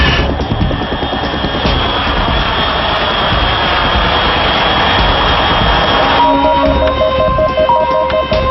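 A jet aircraft roars overhead in the Metal Gear Solid 3 video game, a loud, continuous broadband rush that holds steady throughout, with electronic tones joining near the end.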